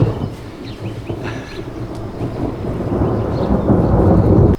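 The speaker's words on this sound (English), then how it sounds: "Now it's raining." Deep thunder rumbles and rolls, swelling louder toward the end, over a steady wash of falling rain.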